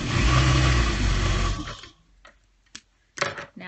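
A sewing machine stitches strips of a rag quilt pillow sham together in one loud, steady run that stops abruptly, followed by a few faint clicks and handling taps.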